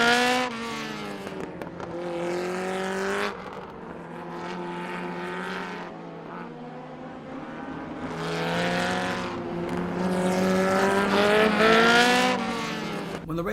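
Race cars at the start of the 1970 Indianapolis 500 roar past in waves, engine notes rising and falling as packs sweep by, loud and close with dips between groups.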